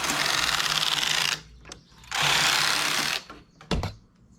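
Knitting machine carriage sliding across the needle bed to knit a row, two long rasping, whirring passes separated by a short pause, close and fairly loud, with a brief clack near the end.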